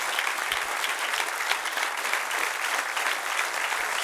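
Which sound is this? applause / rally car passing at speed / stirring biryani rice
applause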